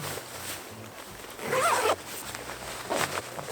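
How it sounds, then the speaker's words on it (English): A Cyclone Pro waterproof jacket is zipped up, with a short, close rasp of the zipper standing out midway through, amid faint handling rustle. "zip this up."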